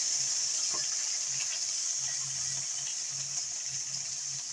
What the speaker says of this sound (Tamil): கொஞ்சமாக தண்ணி ஊற்றி வேக வச்சுக்கலாம்.